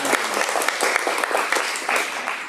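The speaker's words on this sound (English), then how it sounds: "a well-deserved applause right there" An audience at a school band kickoff meeting gives a volunteer photographer steady, fairly close applause that holds at an even level throughout.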